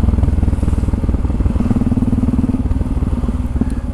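A Yamaha motorcycle cruises along the road, its engine holding a steady, loud, rumbling drone throughout with a slight rise in pitch partway through.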